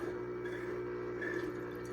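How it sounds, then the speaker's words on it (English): Milk poured into a running blender, a steady liquid gurgle and splash over a constant motor hum, close and continuous. "All right, so I'm gonna pour in my milk"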